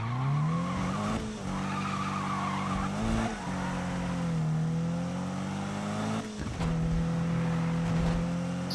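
A car in Need for Speed 2015 drives hard with a steady, loud engine drone and rising and falling revs, as tires skid and squeal through turns, with a couple of brief dips between gear shifts, and no voices heard.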